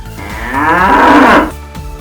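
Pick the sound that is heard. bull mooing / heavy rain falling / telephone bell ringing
bull mooing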